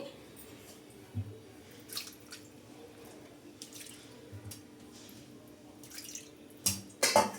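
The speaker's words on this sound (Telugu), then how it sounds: "ఇప్పుడు టమాటాలు కూడా మనం శుభ్రంగా కడుక్కొని" Water from a kitchen tap runs and splashes as tomatoes are rinsed at a sink, a faint steady flow with a few sharper drips and clatters near the end, no talking.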